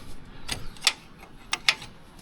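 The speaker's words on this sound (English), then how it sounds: "I was able to wedge this wrench in." A wrench works loose a long-seized nut on a 1975 Peterbilt 359 barn-find truck with a V12, giving a few sharp, scattered metallic clicks and ratchet-like snaps close by over a quiet background.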